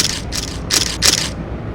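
Camera shutters click and whir in four quick overlapping mechanical bursts, loud and close, with a gritty ratcheting texture.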